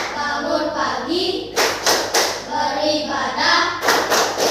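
Children clap their hands in a rhythmic chant, with bursts of sharp claps alternating with sung and spoken group voices, loud and close.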